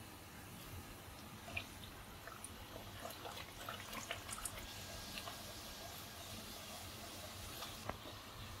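Masala puri, a spiced wheat-flour puri, frying in hot oil gives a steady, close sizzling hiss with scattered crackles and a few sharper pops throughout, no voices.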